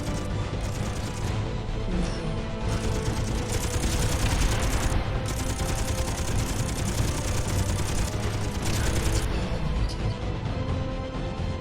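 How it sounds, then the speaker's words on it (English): Gunfire striking the player's ship in the Miner Wars space game, rapid bursts of clattering shots and impacts in dense repeated volleys over a steady mechanical background. "Oh, I'm getting shot."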